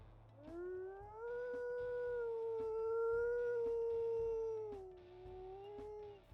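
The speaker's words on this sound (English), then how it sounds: "Bit of a deeper howl," A deep wolf howl from the video game WolfQuest rises and holds steadily for several seconds before sliding down, with faint rhythmic background noise beneath it.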